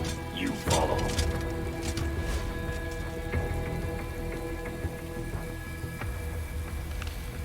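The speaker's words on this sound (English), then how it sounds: "It's raining, Raiden" In Metal Gear Rising: Revengeance, steady rain patters on surfaces throughout, with a brief splashy crash near the start, then continuous even rainfall.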